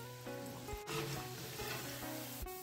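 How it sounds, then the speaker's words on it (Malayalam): Banana blossom vada fritters bubbling in hot oil as they turn brown, a faint continuous sizzle with a couple of sharp clinks from a slotted spoon lifting them out. "അപ്പൊ നമുക്കിനി ഇത് എണ്ണയിൽ നിന്ന് കോരി മാറ്റിയേക്കാം."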